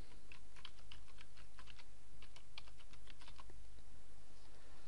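Domain name being typed on a computer keyboard, a quick run of light clicking keystrokes in irregular bursts, close and quiet, with no talking.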